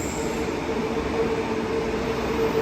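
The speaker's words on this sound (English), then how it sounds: "here's a train," An SMU electric train rolls through Toowong Station, a continuous rushing rumble with a faint steady whine, moderately loud and even for a few seconds.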